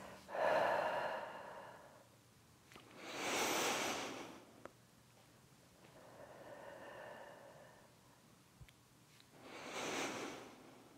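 Deep, audible breaths during a standing, equipment-free lower-back exercise, with long exhales and inhales alternating at a slow, steady rhythm, close and fairly soft, with no talking.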